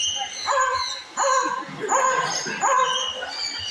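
A parrot at a bird show in a safari adventure park mimics a dog barking, four quick yipping bark-like calls in an even rhythm, close and fairly loud over faint crowd noise.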